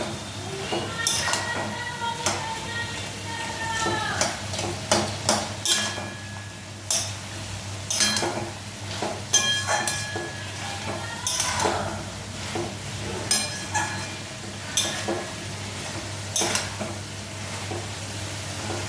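Vegetables with potato, peas and bori stirred in a pan with a spatula, repeated scraping clatters over a steady low sizzle, close and fairly loud, without talk.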